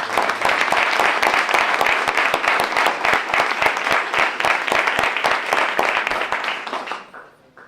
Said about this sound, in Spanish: Fuertes aplausos para Jaime